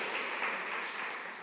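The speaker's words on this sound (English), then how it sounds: "A round of applause to you." Brief, faint burst of audience applause at the opening of a forum's second day, a soft wash of clapping hands that tapers off after a second or so.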